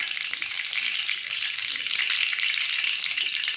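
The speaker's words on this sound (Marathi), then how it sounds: "आता तेल गरम झालेलं आहे आपलं, त्याच्यामध्ये मी मोहरी टाकून घेणार आहे फोडणीसाठी।" Mustard seeds sizzle and crackle in hot oil in a steady, dense hiss that stays fairly loud throughout, with no talking.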